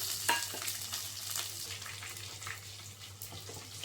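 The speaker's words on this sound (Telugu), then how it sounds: "ఆయిల్ హీట్ అయ్యాక ఆవాలు, జీలకర్ర, వెల్లుల్లి రెబ్బలు కూడా వేసుకోవాలి." Mustard seeds, cumin and garlic cloves frying in hot oil, a faint crackling sizzle with scattered small pops over a low steady hum.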